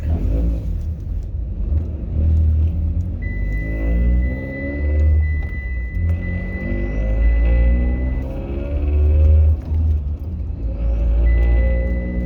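A turbocharged Mitsubishi Lancer driving on the road, its loud engine rumbling and rising through gears with steady harmonic whine and repeated acceleration swells, close and continuous with no talk.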